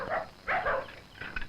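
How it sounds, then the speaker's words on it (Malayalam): Village dogs bark in three or four quick, fairly faint yaps at a moderate distance, with no other sound around them. "നായ്ക്കള് കുറിക്കുന്നു."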